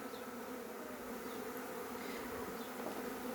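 A large primary honeybee swarm fills the air with a dense, steady buzzing hum, continuous and even, heard alone without voices.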